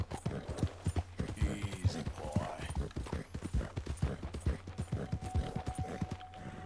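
A horse in the video game Red Dead Redemption 2 gallops with rapid, rhythmic hoofbeats close up, giving a short whinny early on, with game effects layered around the steady clip-clop.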